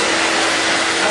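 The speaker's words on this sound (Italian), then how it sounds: "aspirapolvere" A Novaltec Pawnee vacuum cleaner cleaning a pizzeria runs with a loud, steady, close-up broadband roar and no break or talking.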